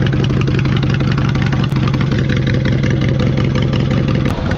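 A mud mower's engine runs steadily at about 70% throttle, a loud, continuous drone with a strong low hum that holds even throughout, close up and with no talking.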